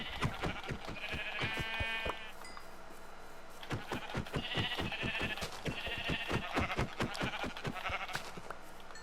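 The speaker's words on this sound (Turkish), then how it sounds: "Lan kaç tane koyun öldürdük?" Sheep in the Minecraft video game bleat in short repeated bursts over a steady run of crisp, rhythmic footstep-like clicks, clear and close with no talk.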